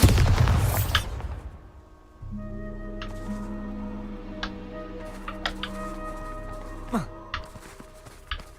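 A Bombarda explosion spell goes off in Hogwarts Legacy as a loud, close burst lasting about a second. It fades into sustained tonal game ambience with a few faint ticks and clicks.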